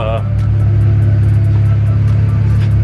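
A 2012 BMW 335is E92 with the N54 engine idling steadily nearby, a loud, even low hum with faint periodic ticking on top, and a brief voice near the start.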